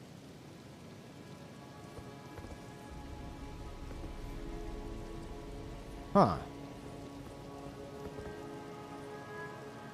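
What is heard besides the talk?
rain falling after a fight in video game Elden Ring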